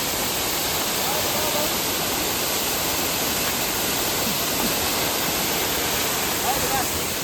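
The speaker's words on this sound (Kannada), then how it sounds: "ಇವಾಗ ಮಳೆ ಜಾಸ್ತಿ ಹಂಗೆ ಸಖತ್ತಾಗಿ ನೀರು ಬೀಳ್ತಿದೆ." A waterfall in Coorg swollen by heavy rain roars in a dense, steady wash of rushing water that fills the whole stretch without a break.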